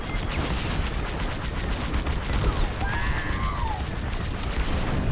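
Sustained barrage of laser gunfire pounding a starfighter in a Star Wars space dogfight, dense rapid crackling bursts and booming hits filling the whole stretch, with faint whistling tones partway through and no talk.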